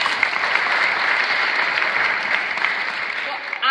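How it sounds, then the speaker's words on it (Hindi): Loud, sustained applause from a large audience at an exam-success motivational talk, steady throughout and dropping off sharply at the end. "इसके लिए ताली बजाओ।"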